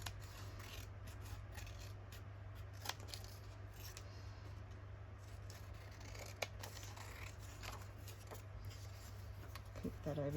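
Scissors snip through craft paper and bits-and-bobs material in a few light, close cuts over a steady low hum, with a voice briefly audible.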